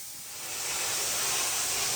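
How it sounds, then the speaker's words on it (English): A steam cleaner works over bathroom tiles and grout with a loud, steady hiss that swells in the first half second and then holds at full force, close by and with no voices. "This completes the steam cleaning process of the whole bathroom"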